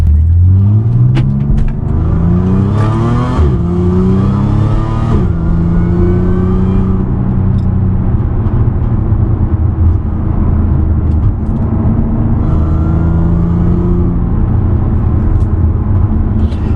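A modded Audi S4 engine revs hard while driving, rising and falling through the gears in loud, close pulls with a deep rumbling exhaust and a brief whine between shifts.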